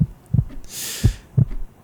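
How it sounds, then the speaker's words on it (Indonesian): A heartbeat thumps in close, muffled double beats at a steady pace, with a brief soft hiss partway through, as in an intimate ASMR roleplay. "kamu dengerin deg-degan aku kan?"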